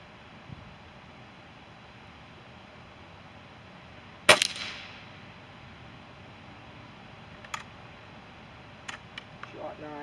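A single sharp shot from an Umarex Gauntlet .22 PCP air rifle fired outdoors during a field test, one crisp crack midway with a short ring-off, followed by a few faint clicks against quiet background hiss.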